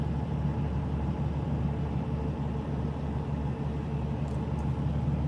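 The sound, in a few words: Kenworth truck with reefer unit running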